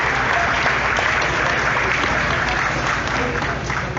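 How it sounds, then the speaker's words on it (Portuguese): An audience applauds Maria Oliveira, a loud, dense, continuous round of clapping from a crowd that holds steady for several seconds. "Vamos aplaudir Maria Oliveira, gente."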